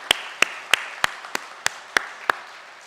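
A church congregation claps during Sunday morning worship to honour a retiring elder. About eight sharp, evenly spaced claps ring out at a steady rhythm, fairly close and distinct against a quiet background, with no talking.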